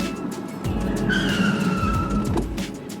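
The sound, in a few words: car braking hard, tires skidding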